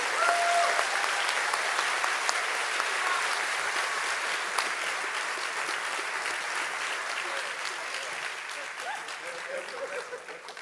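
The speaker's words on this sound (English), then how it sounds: "So a huge applaud for them because they've been working their asses off." Sustained audience applause at a game development award ceremony, dense steady clapping from a large crowd lasting throughout and fading slightly at the end.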